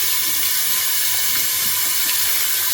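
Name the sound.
water running while washing mangoes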